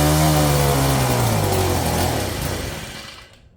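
A Wild Badger 31cc four-stroke yard edger engine runs loud and close with a steady buzzing drone, its pitch slowly sagging and fading out as the engine dies.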